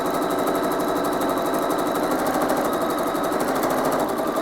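Home sewing machine stitching a quilt blanket stitch, a loud, steady, fast mechanical whir with an even rapid needle rhythm running throughout without a break.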